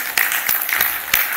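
A church congregation claps in praise: a few loud, separate hand claps spaced unevenly across a moment, close and sharp.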